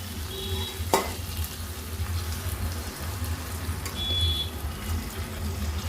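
Water poured into a simmering egg, potato and tomato curry brings a continuous low bubbling sizzle with a sharp clink near the start.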